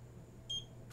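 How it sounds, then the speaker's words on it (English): A Tavool wall stud, pipe and electrical finder gives one short, faint electronic beep after calibrating in open air, a brief high tone over a low steady hum. "It beeped. It's now calibrated to look for electrical wires."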